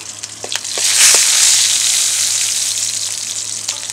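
Two green chillies dropped into hot oil with chana dal and urad dal for a masala kulambu, bursting into a loud, bright sizzle that swells and then settles, with a few sharp crackles and pops, close and alone.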